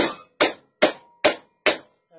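A 20-ounce hammer strikes the top of a punch ram while punching holes for a knife handle: five sharp, loud metallic blows at an even pace of roughly two per second, each ringing off briefly before the next.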